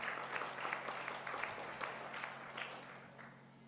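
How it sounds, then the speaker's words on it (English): A room of spectators at a student investment research competition final in Kenya applauds, a moderate steady clatter of clapping that tapers off toward the end over a faint electrical hum. "Round of applause for Team A."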